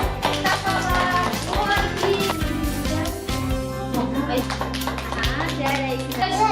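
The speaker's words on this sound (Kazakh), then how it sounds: "Шапалақтаймыз балалар." A group of children clapping their hands, heard as steady rhythmic claps mixed with loud tapping, while an adult speaks and children's voices carry through the busy, close room.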